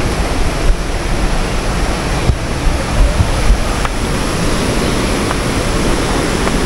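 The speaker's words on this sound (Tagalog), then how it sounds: "Lakas ng agos ng tubig." Strong rushing water pours at Daranak Falls in Tanay, Rizal, a dense, continuous roar close to the microphone, broken only by faint bumps and gusts of wind over the steady torrent.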